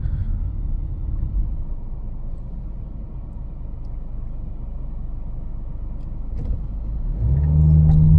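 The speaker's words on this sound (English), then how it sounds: "Now, coming from a dead stop, let me tap the gas a little bit." A 2021 Honda HR-V Sport AWD idles with a low cabin rumble, then pulls away from a dead stop as the engine note rises near the end.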